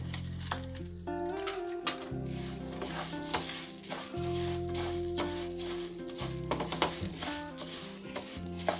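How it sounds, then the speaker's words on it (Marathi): Rice grains being sautéed in ghee for kheer, with a steady background sizzle and scattered clinks and scrapes of stirring, close by, with a tonal hum underneath. "आपण त्याच तुपावर आता तांदूळ परतून घेणार आहोत."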